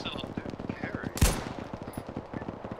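A single loud, sharp crack of gunfire from an enemy machine gun in a military video game stands out over steady radio chatter and talk in the background.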